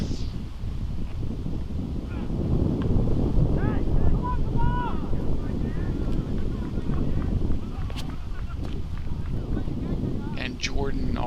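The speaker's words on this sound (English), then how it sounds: "That wind was not helping him," Wind gusting across an outdoor disc golf course at a tournament round, a steady broadband rush buffeting the microphone throughout, with a commentator's voice running over it.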